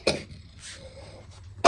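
A person coughs twice, close by: one sharp burst at the start and another at the very end, with a quiet stretch between and no talking.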